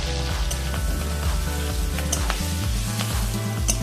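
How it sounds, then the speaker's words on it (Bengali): Potatoes and torn chilli frying in hot oil for a Bengali eggplant-potato hilsa fish curry, a loud, dense crackling sizzle up close with spoon scrapes and pan knocks, no voices. "এবার তেলের ভিতরে আলুটা দিয়ে দেবো।"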